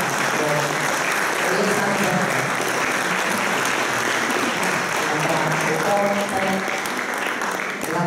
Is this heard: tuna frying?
no